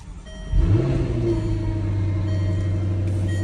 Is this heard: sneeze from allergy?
no